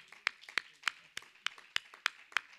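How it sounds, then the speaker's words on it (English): A church congregation claps hands in praise during a sermon, a steady rhythm of sharp claps roughly three per second, fairly close and moderate in volume, with faint voices beneath. "Let's clap our hands again and give God some praise."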